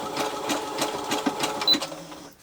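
A sewing machine stitching cotton wrist wraps runs in quick, even bursts of needle clatter, close and fairly quiet, slowing and stopping near the end with no talking over it.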